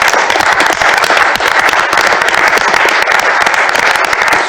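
Audience applause honoring Bob Lackey at a sports authority gathering, loud, dense clapping from a sizable crowd sustained evenly throughout, close and with no talk.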